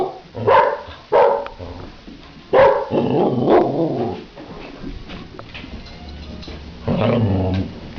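Several dogs bark and growl in loud close bursts, with sharp barks early on, a stretch of rough growling and whimpering in the middle, and another burst of barking near the end.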